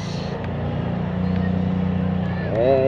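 A fishing boat's engine idles with a steady low drone close by, with a brief rising whine near the end.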